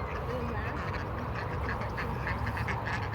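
Ducks at a park quack loudly and continuously in a dense, overlapping chorus close by, with faint voices mixed into the noise.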